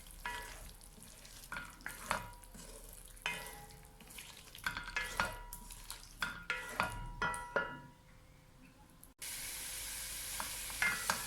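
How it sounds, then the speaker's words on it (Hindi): Potatoes and eggs frying with spices in a pan, a continuous close sizzle broken by repeated scraping stirs and utensil knocks, with a louder steady hiss near the end. "अब हम इनको भूनेंगे।"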